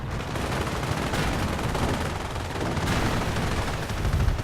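Tank cannon fire and battle noise in a strategy war game, with a Pershing and Panthers in action and shots aimed at a bunker. Dense, continuous booming and crackling gunfire runs steadily throughout, moderately loud and mid-distance.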